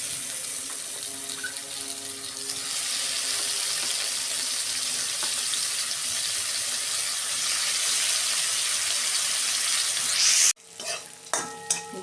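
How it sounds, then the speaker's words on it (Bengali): Bitter gourd slices frying in oil in a wok, a strong, even sizzling hiss held for about ten seconds before it cuts to a few sharp clinks and rustles. "আর অল্প কটা আছে ভেজে নিচ্ছি"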